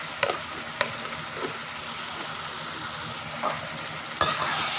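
Drumstick curry being stirred in a pan with salt and chili powder, giving a steady low sizzle under scattered scraping knocks of a spoon, with a sharper clatter near the end.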